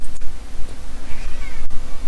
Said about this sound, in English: it seems the cats are fighting